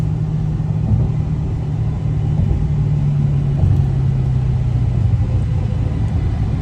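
A Dodge Hellcat's engine pulls hard through the gears, a loud, steady low rumble heard from inside the car that holds for several seconds with slight shifts in pitch. No one speaks.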